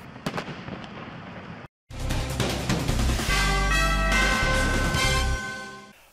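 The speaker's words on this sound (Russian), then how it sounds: "Финальным аккордом встречи стал фейерверк, расцветивший небо Атомграда." Fireworks crackle and pop in a steady dense stream over the town of Desnogorsk, followed by a loud sustained roar of bursts and fizzing that fades at the end.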